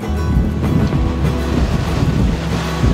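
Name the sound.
wind and sea at a mangrove beach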